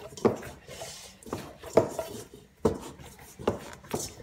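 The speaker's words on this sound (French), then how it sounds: "Et je vais malaxer ma pâte. Voilà. Donc la pétrir" Spelt flour dough being kneaded by hand for faluche bread, a series of about six soft dull thumps and slaps spaced roughly a second apart, close up, with faint rubbing between them.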